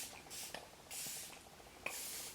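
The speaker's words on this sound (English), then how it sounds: "Second round of setting spray, just to blend everything together." A makeup setting spray hisses onto a face in three short misted bursts, close and soft, with quiet clicks and pauses between them and no voices.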